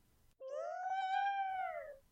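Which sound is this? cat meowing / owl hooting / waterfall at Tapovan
cat meowing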